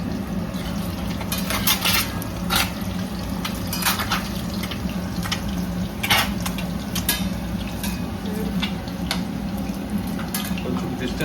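Eggs frying in hot oil with masala for egg ulli karam, the shells cracked open so the oil splutters: close, steady sizzling broken by frequent sharp pops and crackles.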